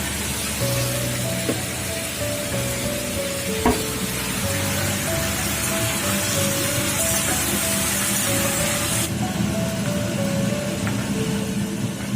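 Potatoes and onions fry in oil in a wok, a loud, steady close-up sizzle with crackling and occasional clinks from stirring that runs for the whole stretch.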